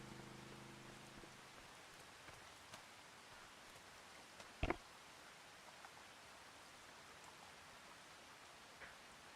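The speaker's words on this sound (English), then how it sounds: "Oh, and here comes the rain." Steady rain falling in the farming game Farming Simulator 25, a soft continuous hiss with one sharp louder knock partway through and no talking.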